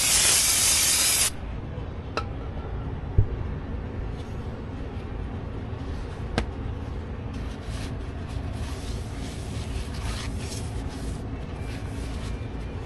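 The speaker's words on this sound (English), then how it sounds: "We'll give it another just courtesy little spray with some brake cleaner" A short, loud aerosol brake cleaner spray hisses for about a second during an Audi A4 brake pad and rotor job, then gives way to quieter workshop background with a couple of faint clicks.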